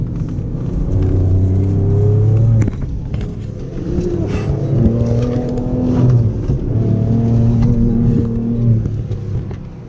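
A 400 hp Ford Ranger Raptor driven hard through Namibian desert sand, its engine close and loud with rising and falling revs and gear changes under a continuous heavy rumble.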